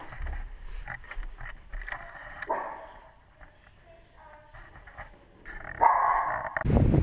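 A dog barks in short, scattered bursts at moderate distance, with quiet stretches between and some rustling noise near the end.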